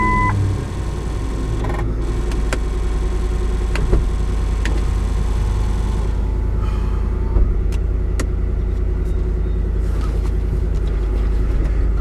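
A 2008 Ford F150 pickup with a newly replaced intermediate steering shaft rolls along a road, its steady low engine and road rumble filling the cabin, broken by a few faint beeps and small clicks.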